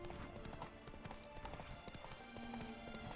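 Roach the horse trots along in The Witcher 3: Blood and Wine, with steady, soft clip-clopping hooves over quiet game ambience.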